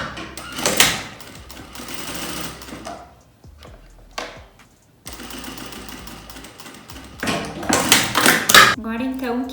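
A sewing machine stitches a purse lining closed in short runs. Bursts of rapid mechanical whirring are broken by pauses and handling clatter, close and loud.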